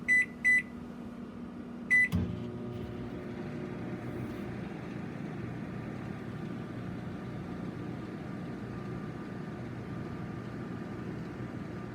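A microwave oven cooking a blueberry muffin in a mug on high: a few sharp beeps and a door click, then a steady low electrical hum that runs on evenly with no talk.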